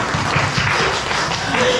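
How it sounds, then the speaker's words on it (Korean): Brief burst of congregation clapping in a church sanctuary during a sermon, dense and even for a couple of seconds, close and fairly loud. "박수 한번 칩시다."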